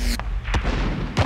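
Three-line rifle shots in a video game ring out as loud, sharp booming reports, three blasts in quick succession with rumbling decay between them.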